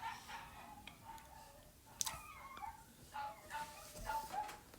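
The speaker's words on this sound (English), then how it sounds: "my dogs are going crazy." Dogs barking and whimpering somewhere in the distance, a scattered series of faint yelps and barks under steady background noise, with a bird-like crowing cry mixed in.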